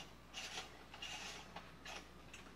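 A lens is unscrewed from a DSLR camera in several short, faint scraping and rubbing turns, quiet and close with small pauses between them and no voices.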